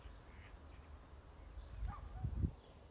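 Faint quacking of ducks at some distance by a lake, a few low calls toward the end over outdoor background noise.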